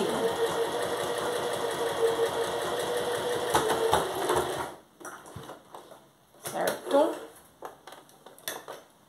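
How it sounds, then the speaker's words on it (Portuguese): A sewing machine runs steadily at close range as it stitches a fabric strip for an Easter ear pouch, then stops into quieter rustling and handling noises. A voice speaks over the later part. "E aí é só seguir costurando pra gente pegar essa tirinha."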